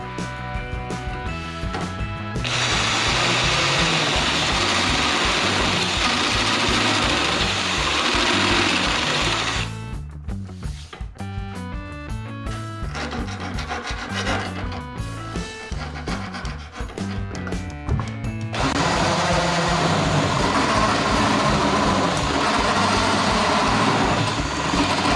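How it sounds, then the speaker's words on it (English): A step drill boring holes in a Vans RV-7A experimental airplane's firewall bulkhead, giving a loud, sustained motor whine that runs steadily, drops to a lighter buzzing stretch midway, then returns at full strength. "That step drill makes quick work of those."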